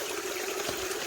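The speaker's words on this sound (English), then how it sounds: "The water coming off of the end is even" Water flowing evenly off the end of a gold sluice box outdoors, a steady close rushing trickle with no pauses.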